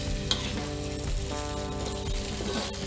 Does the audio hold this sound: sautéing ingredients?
yes